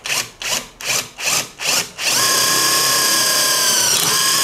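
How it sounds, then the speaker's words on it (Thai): A PROSTORMER 300 Nm cordless impact driver sinks a self-drilling screw into black steel box tube about 2 mm thick. Five quick rhythmic hammering bursts give way to a loud, steady, high whine as the screw drills through, close and alone. "ผมก็เลยจะเอาสกรูเจาะเหล็กนะครับมาลองเจาะดูเหล็กกล่องตัวนี้นะครับ"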